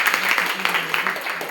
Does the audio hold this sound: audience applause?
yes